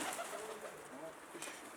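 A pigeon coos softly, a brief low burbling call heard close by against faint background noise.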